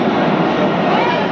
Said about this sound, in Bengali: হাওড়া ময়দানের দিকে যাচ্ছে ট্রেনটা।